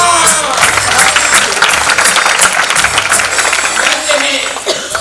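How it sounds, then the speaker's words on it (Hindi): Sustained audience applause at a Hindi drama company stage show, loud and dense clapping filling the space without pause, with faint crowd murmur underneath and no clear talk. "तालियां।"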